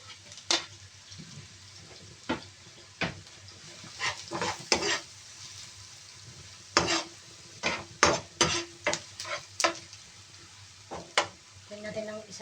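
Garlic and onion sautéing in a pan, a steady low sizzle broken by a series of sharp spoon-on-pan clacks and stirring scrapes, busiest in the second half, close and moderately loud.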